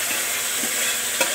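Meat frying in a pan: a short stretch of dense, steady sizzle with a soft stirring bump or two, close and even.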